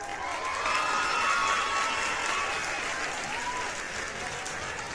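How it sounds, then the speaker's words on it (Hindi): Sustained crowd applause with some cheering mixed in: continuous dense clapping at an even level throughout, easing slightly toward the end. "तालियां।"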